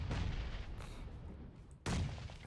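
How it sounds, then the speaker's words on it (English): Grenades explode during a video game tournament match: two heavy, booming blasts sound close and loud, the second after a short lull, with no talking. "those nades coming in hot"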